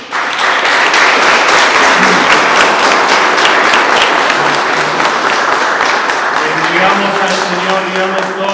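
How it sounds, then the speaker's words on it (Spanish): Wedding guests applaud the newlyweds in a steady, loud burst of clapping that fills the whole stretch, with a few voices and a faint tone rising under the applause near the end. "Un aplauso a estos nuevos esposos."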